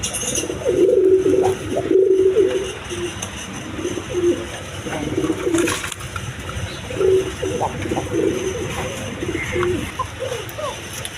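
A pair of pigeons for sale at a loft coo in repeated short, low throaty bursts, several in sequence, over background rustling, flock murmur and faint voices.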